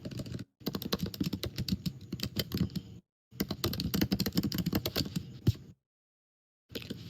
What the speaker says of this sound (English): I'm just fast typing, so I'm not leaving you hanging too long.